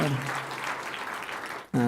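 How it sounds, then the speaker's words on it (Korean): Church congregation members clap in welcome during a Sunday morning worship service, a short burst of dense applause that cuts off abruptly as a voice begins speaking. "박수 환영해 주시기 바랍니다"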